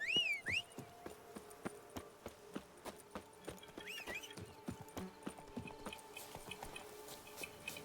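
Roach the horse from the Witcher 3 video game gallops, with steady rhythmic hoof clip-clops running throughout, close and clear, plus a couple of brief neighs and whinnies near the start and middle.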